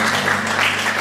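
Church congregation applauding together in a steady, dense wash of clapping that fills the room at close range, with no pauses.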